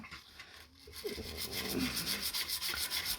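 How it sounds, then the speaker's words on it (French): Scrubbing while cleaning a room: a faint, steady rhythmic rubbing with repeated back-and-forth strokes close by, rough and papery. "On frotte, on frotte, on frotte, on frotte."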